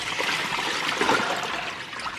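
Tap water runs steadily and close while lettuce is washed for a green salad, a continuous splashing stream with no talk.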